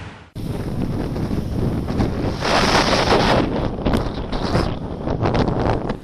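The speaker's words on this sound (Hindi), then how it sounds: "तेज हवाओं के साथ ही भारी बारिश हुई और समुद्र में ऊंची लहरें उठी।" Strong cyclone winds in Mumbai roar steadily and loudly as broadband rushing noise, buffeting the microphone, with gusts swelling midway and continuing without speech.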